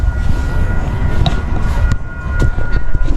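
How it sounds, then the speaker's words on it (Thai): A train rumbles past close by, a steady loud clatter of wheels with occasional sharper knocks and squeals. "มีรถไฟผ่าด้วย"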